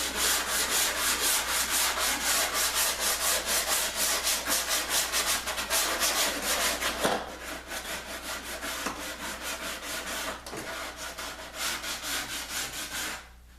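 Steady, rhythmic hand sanding of a wooden pub table edge with a foam block, quick back-and-forth strokes up close, pausing briefly before resuming at the same brisk pace.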